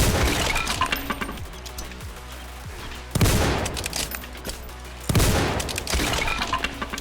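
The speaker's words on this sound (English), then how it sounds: "Artillery dropping in the center again, just not really hitting anything here" Artillery shells exploding in the Roblox WW1 trench game Entrenched, a continuous rumble of distant gunfire broken by two loud, sharp blasts about two seconds apart.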